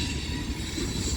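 A BNSF mixed freight train rolls past at Central Avenue, a dense, steady low rumble with a constant roar, heard close by and alone.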